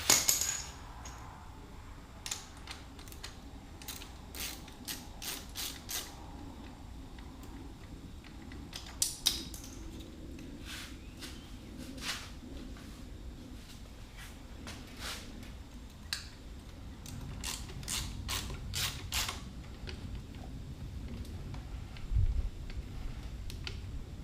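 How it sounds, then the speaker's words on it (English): A wrench clicks and clinks in sharp, scattered metallic taps while loosening the cylinder nuts on a 1986 Honda Fourtrax 200SX, fairly close and faint, with a low hum underneath. "I got them loose with a wrench."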